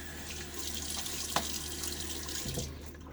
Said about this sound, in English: I'm gonna splash my face with some water.